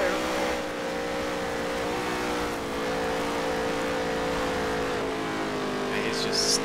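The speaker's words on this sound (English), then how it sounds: "Red line in our second gear right now." A NASCAR race car in the Nascar Heat 3 video game holds its engine at red line in second gear: a loud, steady, high-pitched engine drone that runs without a break under a speaking voice.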